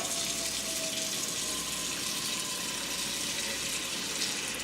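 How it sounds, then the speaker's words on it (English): Water runs steadily from a tap into a cooking pot, a continuous close hiss and splash with no talking. "So you want to cover up the bottom of a pot with water."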